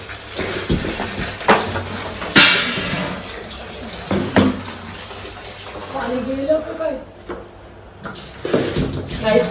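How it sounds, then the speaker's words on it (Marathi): Water runs and splashes into a container amid intermittent clatter and bumps, with a voice briefly heard in the background. "मी पाणी भरून घेते पाणी आलेलं आहे"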